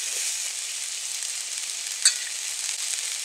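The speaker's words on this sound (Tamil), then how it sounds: "நல்லா பரட்டி விட்டுக்கலாம்." Drumstick leaves and stems with salt and turmeric sizzle and crackle steadily in a hot pan as they are stir-fried, a continuous bright frying hiss with a brief utensil clink, no talking.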